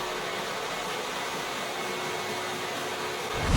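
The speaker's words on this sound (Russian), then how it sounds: "Угол обязательно проходим щелевой насадкой для пылесоса." A vacuum cleaner fitted with a crevice nozzle runs along a floor corner during apartment renovation, giving a steady, close broadband whoosh that holds level throughout and swells slightly at the very end.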